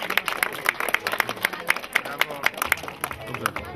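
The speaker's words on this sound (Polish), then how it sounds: "Wielkie brawa, wielkie brawa." Rhythmic, evenly spaced clapping from a crowd cheering winners on a podium at a youth competition, sharp beats in a steady pulse with murmur and voices underneath.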